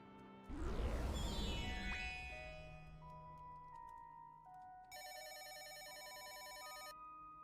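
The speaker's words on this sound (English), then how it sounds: "Phone is ringing." In a video game, a telephone rings with a bright electronic warble after a swelling synth sweep, the ring pattern repeating over quiet background tones with no talk.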